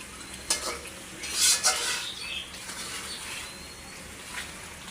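Pangas fish pieces frying in spicy masala in a pan, with a steady low sizzle broken by several scraping stirs of a spatula against the pan.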